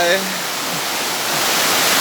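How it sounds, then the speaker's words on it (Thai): Rushing water of Sai Yok Noi, a limestone waterfall in Thailand, fills the short stretch as a loud, continuous hiss after a brief voice at the start. "อ้ยน้ำตกไซโยกน้อย มันไม่ลื่นนะครับ มันเป็นหินปูน"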